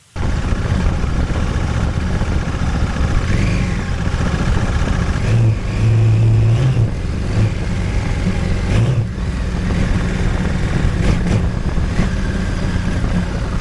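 A Honda Africa Twin motorcycle with Wilbers suspension climbs uphill, its engine droning loudly and continuously, pitch rising and falling as it accelerates, with wind buffeting throughout.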